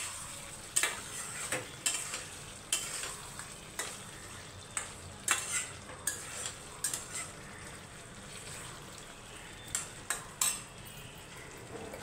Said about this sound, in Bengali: চিনিটা ভালোভাবে মিশিয়ে নেব।